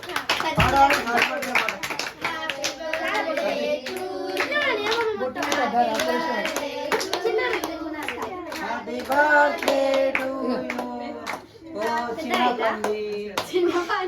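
Clapping from a small group at a birthday celebration runs throughout, close and uneven, with children and adults singing and talking over it.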